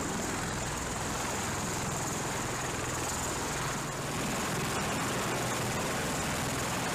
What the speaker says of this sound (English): The V-22 Osprey is a tiltrotor aircraft that combines the vertical lift of a helicopter with the speed and range of a fixed-wing airplane.